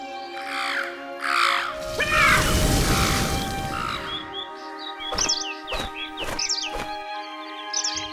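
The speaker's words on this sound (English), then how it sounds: "And the crazy birds squeak in your ears." Morning birds squeaking and cawing near the listener, with a burst of rough noise in the middle and then several sharp repeated chirps over a steady background tone.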